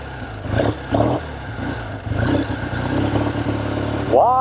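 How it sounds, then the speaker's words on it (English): A 1970 Triumph TR6 motorcycle engine runs nearby at a loud idle and revs in short bursts, then climbs in pitch as it pulls away at the end. "What a good sounding bike."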